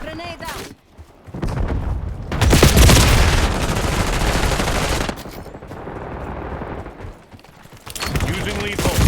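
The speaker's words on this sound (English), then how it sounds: "Grenade out." A grenade blast and heavy automatic gunfire in the shooter game Black Ops 6, loud and sustained for several seconds, with a brief lull before more firing resumes at the end.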